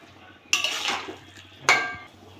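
Pumpkin stems with shrimp and spices stirred in a pan, heard as two distinct scraping clanks of a metal spoon against the pan, close and fairly loud with a quiet pause between.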